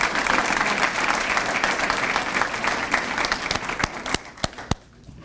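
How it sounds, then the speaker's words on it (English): Loud audience applause fills a Shining Apple Awards ceremony hall for an honoree: a dense, sustained burst of many hands clapping that thins over the last second into a few scattered claps, then falls silent. "A big round of applause for Suzy Gore."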